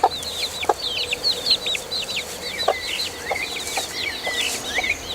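Chickens cluck and chicks peep steadily in a June vegetable garden, high chirps repeating over soft clucks nearby with occasional louder hen calls, no talking.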